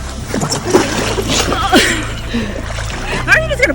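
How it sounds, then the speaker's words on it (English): A person pushed into lake water at Lake Mead makes a splash, with water sloshing around a boat while people talk loudly throughout. "How are you just gonna push me in the water?"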